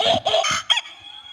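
A rooster crow on a sports show, heard as several loud, strained harmonic bursts in quick succession, clear and close, with no talk over it.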